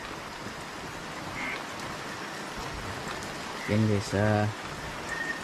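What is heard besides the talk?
rain falling outside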